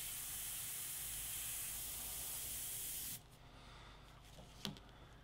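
Airbrush spraying detail black paint onto a Joker artwork, a steady continuous hiss for about three seconds that cuts off abruptly, followed by faint handling noises and a small click.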